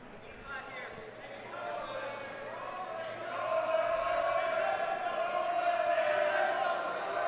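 Fans of Averett's college wrestling team in a corner of the gym yell for a stalling call, their crowd noise swelling louder partway through under a commentator's voice.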